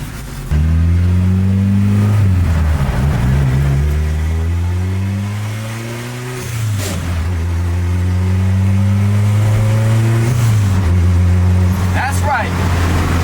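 A Ford Mustang, newly fitted with a working transmission mount, revs loudly up through the gears while driving, its engine note climbing in repeated rising sweeps and dropping at each shift, with voices over it.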